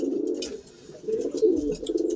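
A pigeon coos in a steady low rolling murmur, close and moderately loud, with brief dips and swells across the stretch; a pet pigeon in a home loft.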